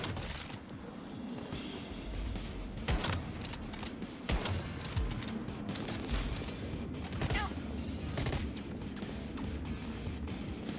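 Gunfire rattles through a fight in the survival shooter Once Human, with rapid overlapping bursts and sharp single shots cracking for about ten seconds under a dense, noisy mix of impacts.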